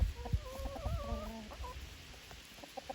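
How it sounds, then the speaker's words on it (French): A rooster clucks in a short run of soft, low calls at a farmyard, moderately close over faint background noise. "le coq est magnifique"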